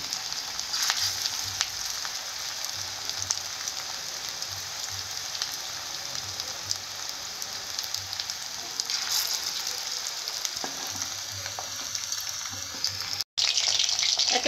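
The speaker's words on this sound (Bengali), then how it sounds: "এইভাবে কিছু মাংস ভেজে নেব পকোড়াগুলো। তোমরা হালকা আঁচে ভাজবে।" Meat pakoras fry gently in oil over low heat, a close, continuous sizzle and crackle that holds steady throughout and cuts out for a moment near the end.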